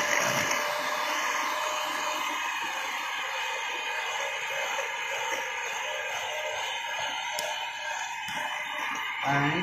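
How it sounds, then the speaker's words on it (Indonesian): An electric mixer whirs continuously while bolu kukus gula merah batter is beaten, a steady high-pitched motor whine that holds at a constant level with little variation throughout. "ini mixer."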